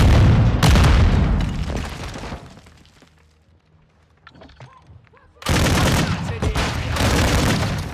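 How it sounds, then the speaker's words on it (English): A sticky grenade explodes in the Call of Duty: Modern Warfare II video game, a loud, close burst that fades, then heavy gunfire and blasts resume after a short quiet stretch. "Tossing sticky grenade!"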